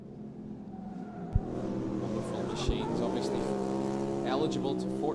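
A junior rallycross cross car brakes and drops three gears at Mondello Park, its engine note stepping down in pitch with sharp shift clicks. A commentator talks over the racing engine noise throughout.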